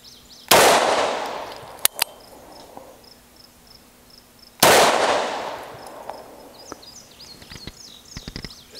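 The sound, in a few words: gunshots from a Bond Arms Rough and Rowdy 410/45 LC pistol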